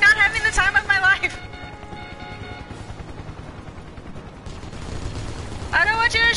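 Steady rattling automatic gunfire in a Final Fantasy VII Remake battle, a continuous rapid burst in the middle, bracketed by a character's voice speaking at the start and end.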